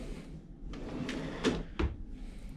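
Drawers in a cruise ship cabin aboard the MSC Virtuosa slide and bump shut, several short wooden knocks and scrapes close by, the last two the loudest, over a quiet room hum.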